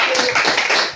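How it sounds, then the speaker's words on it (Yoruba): An audience at a Yoruba award event claps for a woman, a dense, close burst of applause that lasts about a second. "ẹ pàtẹ́wọ́ fún màmá"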